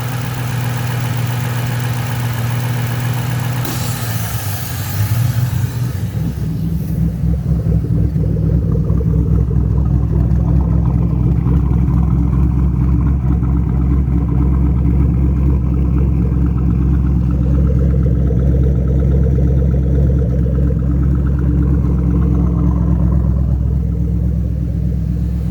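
A 2005-09 Ford Mustang engine with a hose removed beside the brake fluid reservoir, loud and close, with a brief higher burst at the start that settles into a deep, rumbling, lumpy idle that keeps going steadily.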